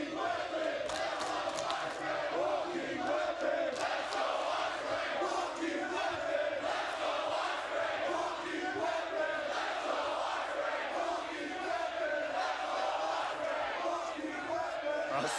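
A split wrestling crowd in the Impact Zone in Las Vegas roars continuously, a dense wall of cheering, shouting and chanting from a large indoor audience that holds at a steady level throughout.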